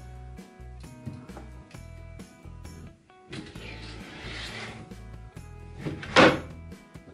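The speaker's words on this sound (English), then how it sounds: "now I'm going to check the drawer again." A wooden chest drawer being repaired slides in and out with repeated thuds and knocks, then a longer rolling slide, close up, ending in a sharp clatter.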